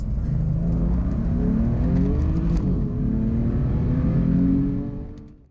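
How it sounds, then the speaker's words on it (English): A BMW M4 launches hard from a standstill, its engine note rising steadily and loudly for about five seconds before it fades as the car pulls away. "Now let's see that M4 in action."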